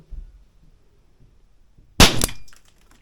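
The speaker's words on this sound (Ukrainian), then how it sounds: "І останній восьмий постріл" A single loud crack from a Weihrauch HW4 air revolver with a 2.5-inch barrel, sharp and close, ringing briefly after a quiet stretch of faint background noise.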